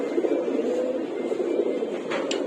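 Platinum pigeons cooing nearby, a continuous low throaty murmur of coos with faint higher sounds near the end.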